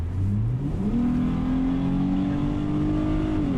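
A BMW 535i xDrive and an Infiniti G35 Coupe with automatic transmission launching from a standstill in a street race, engines revving loudly and climbing steadily in pitch as they accelerate, heard close and continuous.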